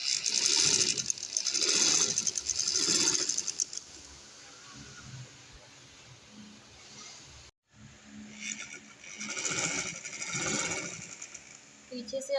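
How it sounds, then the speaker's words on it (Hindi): A sewing machine stitches lace onto fabric in short whirring bursts with pauses between, close by and moderately loud, while someone talks over it. "ये बिल्कुल इसके साथ साथ आपने सिलाई लगानी है।"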